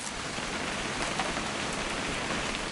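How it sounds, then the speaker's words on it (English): Steady rain falls in the video game What Remains of Edith Finch, a dense, even hiss of drops on surfaces, continuous and moderately loud with no voices. "It's gonna rain the whole weekend, isn't it?"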